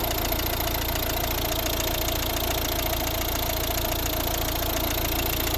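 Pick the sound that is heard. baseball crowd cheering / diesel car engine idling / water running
diesel car engine idling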